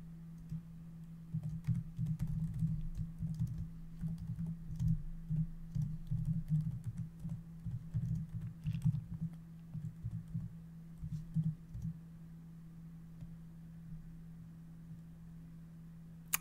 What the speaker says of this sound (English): Sorry, I'm typing something.